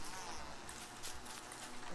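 Bees buzzing in the survival video game Don't Starve Together, a steady insect drone holding at moderate level through the whole stretch, with no talk over it.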